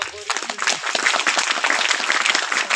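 Audience applause at a national tribal training camp gathering in Ambikapur, a dense, loud burst of clapping from a crowd that carries on steadily throughout, with voices mixed in beneath.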